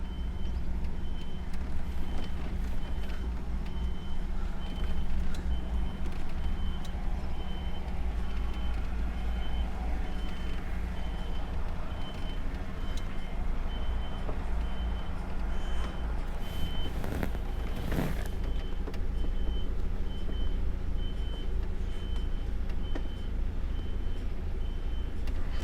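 A truck backs a trailer into place in Cornwall, its reversing beeper repeating steadily over a constant low diesel engine rumble, with a brief hiss near the end.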